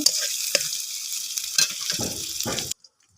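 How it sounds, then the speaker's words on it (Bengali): Taro leaves sizzle in a hot pan over a clay stove while a utensil scrapes and stirs a few times, then the sound cuts off abruptly. "একটু নাড়াচাড়া দিয়ে দিতেছি"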